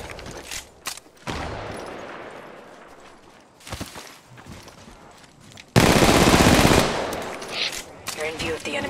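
Rapid automatic gunfire bursts in the mobile shooter game Apex Legends Mobile, loud and close, with a sharp intense burst midway and scattered shots before and after, alongside game audio.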